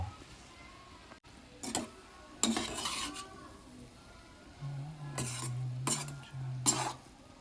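Lemon rice (pulihora) being gently folded and mixed in a pan, heard as several short, soft spoon scrapes in separate bursts with quiet gaps between, close by, with a low hum behind and no speech.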